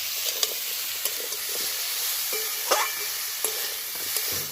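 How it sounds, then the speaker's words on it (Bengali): Vegetables fry in a pan with a dense, even sizzle and hiss throughout, punctuated by occasional light spatula taps and scrapes, close and steady with no speech. "ভালো করে সবজিগুলো ভেজে নিয়েছি"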